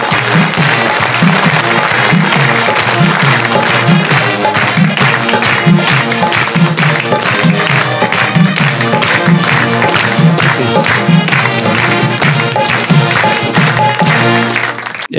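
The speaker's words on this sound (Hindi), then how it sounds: "बुलाइए जी मुरली चौहान, आपकी तालियों में।" A studio audience at an Eid-ul-Adha special show applauds a performer as he is called to the stage. The clapping is loud, dense and sustained for about fifteen seconds, with no voices over it.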